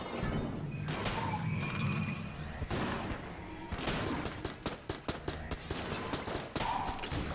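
Charge-shot weapon fire in Enter the Gungeon, bursts of sharp shots and impacts in uneven clusters, with a rapid string of cracks near the end over game effects.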